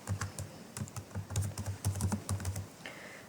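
Steady, fast typing of code on a computer keyboard, close and clear, with a continuous run of clicky keystrokes and no voice over it.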